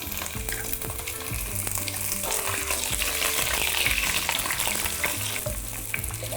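Butter, 30 grams of it, sizzles and spits steadily in a hot pan as beef is browned for a vegetable and beef sauce, a continuous close frying crackle with occasional stirring and no talking.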